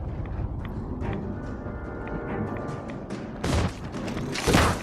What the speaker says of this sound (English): Pull out the old Gauss rifle